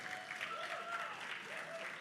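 An audience at a Bollywood song launch event claps steadily, a moderate, even crowd applause heard somewhat distantly, with faint tonal voices or whistles drifting above it.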